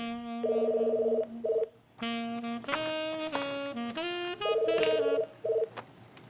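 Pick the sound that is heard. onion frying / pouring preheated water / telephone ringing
telephone ringing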